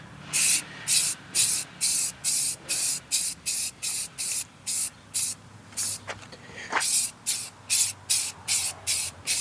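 Short bursts of aerosol spray paint hiss in a fast, regular rhythm while a second coat goes onto a 2011 Ford Fiesta alloy wheel, close and loud with brief gaps between passes.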